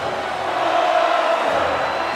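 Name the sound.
wrestling arena crowd cheering in video game WWE 2K22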